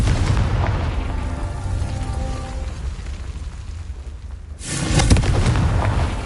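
A fiery Confringo spell blast in the Hogwarts Legacy video game, a loud low boom that rumbles and fades for several seconds, then a second sharp, bright burst of explosion near the end.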